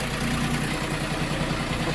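A Bulat 244 wheeled tractor on wide tires idles steadily nearby while being delivered, its low engine rumble continuous and even throughout with no talk.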